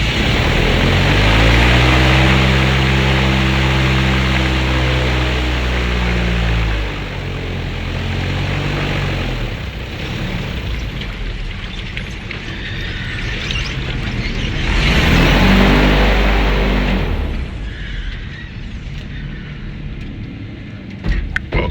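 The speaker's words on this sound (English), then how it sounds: "That's how you stop an airboat." A loud airboat engine in the Florida Everglades drones close by with a deep, steady roar, then winds down and cuts off, leaving a quieter rumble and faint noise.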